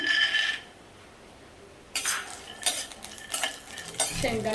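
Peanuts roasting in a little oil in a pan for a stuffed bitter gourd masala: a brief clatter, a quiet pause, then repeated rattling and scraping bursts as the nuts are stirred close by.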